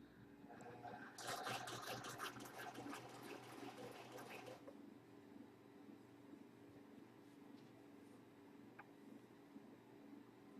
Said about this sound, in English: Got to concentrate on my sewing.